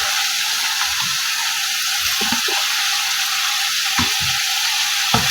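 Keema simmering in tomato and onion water with more chopped onion going into the pan, giving a loud, continuous sizzle with a few sharp clinks and stirring knocks near the start, middle and end.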